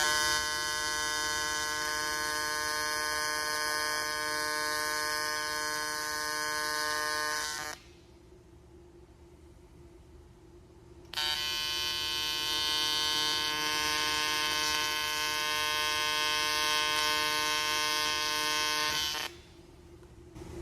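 YesWelder TIG200P AC/DC TIG welder tacking an aluminum butt joint, a loud steady electric buzz held for several seconds, a short break, then another long buzzing burst, close up with no talking.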